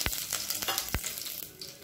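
Bay leaf, stone flower, curry leaves and fennel seeds fry in hot oil in a home kitchen, a soft steady sizzle with a few sharp crackles and pops, quiet and close.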